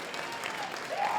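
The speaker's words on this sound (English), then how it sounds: "Where are the alcoholics, by a round of applause" Comedy club audience at a Mike DeStefano stand-up set applauds, a steady wash of clapping with scattered whoops, moderately loud and lasting about a second.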